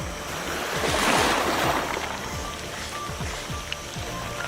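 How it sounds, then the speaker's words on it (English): Powerful ocean surf where the Indian and Atlantic oceans meet at Africa's southernmost point: a steady wash of breaking waves with a surge that swells and fades, heard alone without speech. "The power of the oceans, where the Indian and Atlantic meet."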